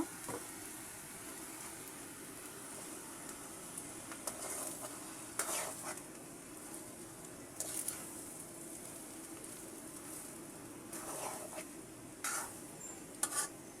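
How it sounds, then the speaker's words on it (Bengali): Fried rice stirred with soy sauce in a pan, with a steady quiet sizzle underneath and occasional brief scraping strokes of a spatula, faint and fairly distant. "এবারে আমি সয়া সস দিয়ে নেড়ে দেব"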